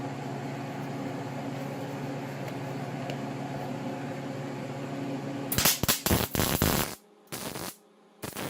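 A wire-feed welder stitching a Kubota F3060 mower muffler using 035 wire, beginning as a steady electrical hum and then breaking into several short, loud crackling bursts with gaps between them toward the end.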